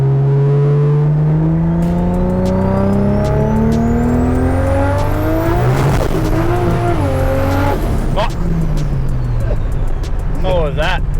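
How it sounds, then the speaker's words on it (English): A 900-horsepower turbocharged Holden VL with an RB30 engine revs hard and accelerates up through the gears, loud and close, with rising and falling engine pitch and a brief tyre chirp around the middle. "Something about the RB30. It just sounds like a muscle car"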